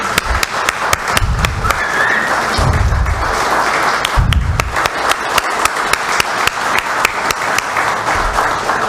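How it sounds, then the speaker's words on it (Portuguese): Applause in a municipal council chamber during an ordinary session, a steady wash of many hands clapping that fills the whole stretch, with a few heavier thumps underneath. "Que esses aplausos sejam mais do que sons, tá?"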